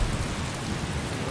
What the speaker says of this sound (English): Get rid of the rain,